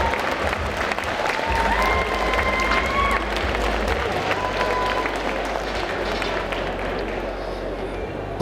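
A convention audience applauds a cosplayer in a leather Goldorak costume, with dense, steady clapping and some cheering that carry on throughout, loud and close over a low rumble, with whistles near the start.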